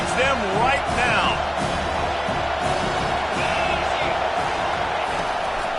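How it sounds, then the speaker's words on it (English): Stadium crowd roars and cheers continuously at an American football video game while a defense pressures the quarterback, a broad steady wash of noise with a few whoops rising above it, heard alongside commentary speech. "This crowd knows this defense needs them right now."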